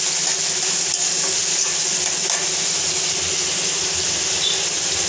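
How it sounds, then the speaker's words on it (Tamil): Chopped tomato and two green chillies sautéing in a hot pan, a steady loud sizzle with constant hiss and occasional soft stirring scrapes, no voices. "தக்காளி நல்லா குழைய வதக்கிக்கலாம்."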